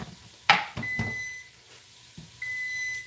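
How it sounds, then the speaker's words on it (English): A kitchen timer sounds two long, steady electronic beep tones over a quiet kitchen, with a couple of sharp knocks and clatters from cooking before the first tone. "That's my timer for my seedlings."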